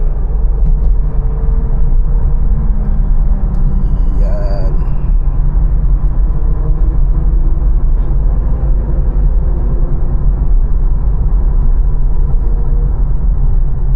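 Loud, steady road traffic surrounds a truck in the Philippines near Cavite, with a constant low engine rumble and passing vehicles, and a brief horn-like tone partway through.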